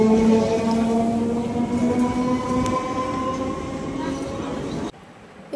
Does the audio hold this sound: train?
yes